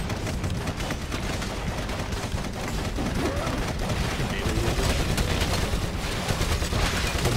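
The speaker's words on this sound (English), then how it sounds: "Man, that heavy bolter is absurd." Heavy bolter gunfire in the Warhammer 40,000 Eternal Crusade game, a loud, dense and continuous barrage of shots with booming impacts running throughout.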